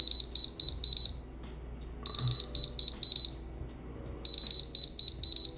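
A smart wallet's built-in locator sounds three bursts of rapid high-pitched electronic beeps, each a quick run of about five chirps separated by short pauses, loud and close, without talking.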